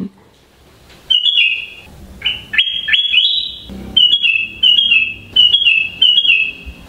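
A golden bulbul sings in clear, whistled phrases, short bright chirps and rising notes repeated in bursts at close range over a quiet background, with a faint voice in places.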